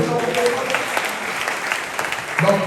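An audience applauds in a steady, close wash of clapping that lasts throughout, with a voice speaking over it.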